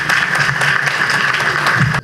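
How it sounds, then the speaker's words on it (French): Audience at a formal ceremony applauding, a loud, close burst of steady clapping lasting about two seconds before stopping abruptly. "Applaudissements."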